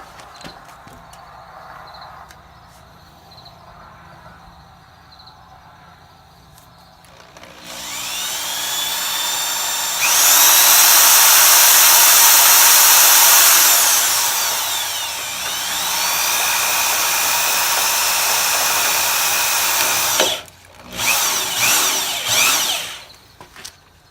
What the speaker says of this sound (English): I'm just going to come over and drill through the other way.